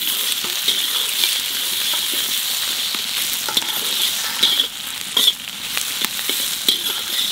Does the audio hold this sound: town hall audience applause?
no